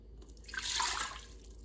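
A cup of water pours into an Instant Pot fitted with a trivet, a brief, close splashing rush that swells and fades over about a second, with no talking.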